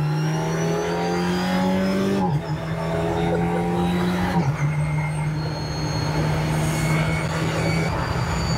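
A race car worth about 80,000 euros drives on the Spa circuit, its engine a loud, close, sustained drone that shifts pitch through gear changes with two brief dips, no one speaking.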